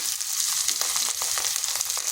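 Spices spitting in hot oil as turmeric powder goes into a soybean and egg curry, a dense bright sizzle with small crackles, close and continuous with no talking.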